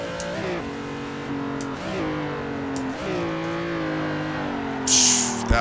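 A car engine in Assetto revs and drops through a corner during a drift attempt, with rising and falling pitch and a short burst of tire noise near the end. Someone talks over it.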